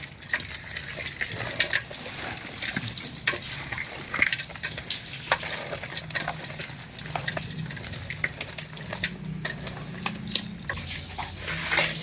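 Marinated meat curry frying in oil while it is stirred by hand, a steady close sizzle with frequent clinks and scrapes of the spoon against the pan throughout.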